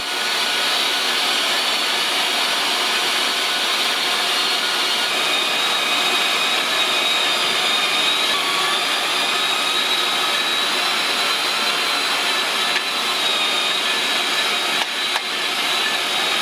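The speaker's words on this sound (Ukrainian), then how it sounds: "Беремо м'ясорубку і все пропускаємо через насадку з найбільшими отворами." Electric meat grinder running continuously as pork fat and meat are pushed through the coarsest plate for homemade sausage, a loud steady motor whine that holds without pause throughout.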